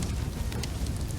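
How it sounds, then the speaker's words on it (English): Rain falls in the Soulmask video game as a brief, even wash of dense patter and hiss on a surface, fairly close and unbroken, with no speech. "Yay for rain physics that work."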